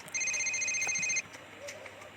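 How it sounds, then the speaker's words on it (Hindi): A telephone gives one short electronic ring, a bright steady two-tone burst lasting about a second, followed by quiet background. "वापस घर पहुंचने के बाद अभिनव को एक के बाद एक पहले डॉक्टर अनिरुद्ध और फिर जज स्वामी का फोन आया।"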